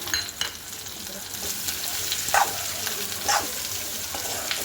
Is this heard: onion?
yes